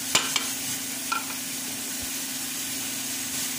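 Mutton cooks in hot oil with ground tomato, ginger-garlic and onion, giving a faint, even sizzle over a low steady hum, with a few brief clinks near the start.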